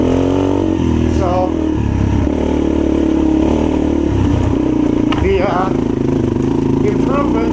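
A modified 2016 Yamaha TTR230 dirt bike, regeared and rejetted, accelerates along a trail with a steady mid-pitched engine drone and rising revs, while a rider talks over it throughout.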